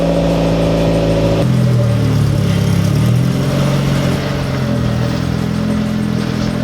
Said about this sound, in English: Exhaust sounds pretty good. There is something a little bit loose in there that will fix.